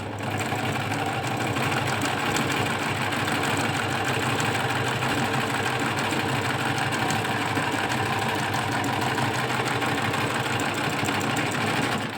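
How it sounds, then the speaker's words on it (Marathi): Singer sewing machine stitching a design, a steady mechanical whirring hum with rapid needle ticking, continuous and fairly close for the whole stretch. "आता याच्यानंतर आपण ही शिलाई करूया"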